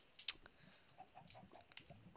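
Chicken clucking in a video game: a few short, soft clucks scattered over a quiet background, with one sharp, bright click near the start and another toward the end.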